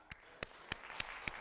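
A few separate sharp claps at a comedy improv show, evenly spaced about every third of a second, quiet and fairly close, with a faint murmur between them.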